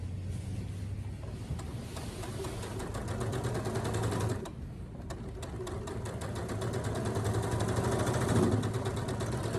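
Handi Quilter longarm quilting machine top stitching a tote bag closed, a continuous fast mechanical whir with a rapid stitch rhythm and a brief dip partway through, close and steady with no talk.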